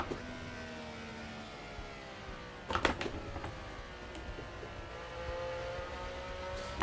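A racing car engine drones through a simulated lap of the 1960s Nürburgring in Assetto Corsa, driven with an H shifter, its tone rising and falling steadily, with a short cluster of sharp clicks midway.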